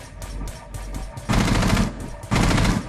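Continuous automatic gunfire in a tactical video game, two loud sustained bursts over lighter distant shots and background game noise.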